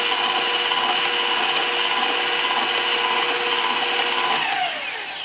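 Electric mixer beating cheesecake batter with eggs, a loud, continuous whirring drone that holds steady for several seconds before slightly easing.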